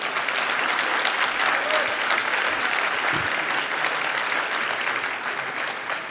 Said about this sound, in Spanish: Ese aplauso no le ha gustado nada a Rajoy